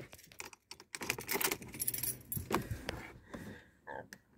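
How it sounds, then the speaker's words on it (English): Car keys for a Ford Fiesta ST 150 jangle close up in an irregular burst of metallic clinks as they are picked up and handled. "if I just grab the keys"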